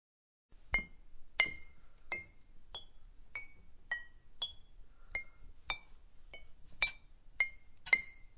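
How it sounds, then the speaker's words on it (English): Shallow glassy clinks from the video game Z.A.T.O., about a dozen sharp, evenly spaced taps ringing out alone against near silence. "The same series of shallow but consistent clinking sounds can be heard inside, accompanied by the ticking of a clock."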